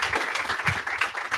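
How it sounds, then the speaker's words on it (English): Audience applause at an entrepreneurs' meetup, a short burst of dense scattered clapping from a small crowd, steady and moderately loud without voices. "Round of applause for James."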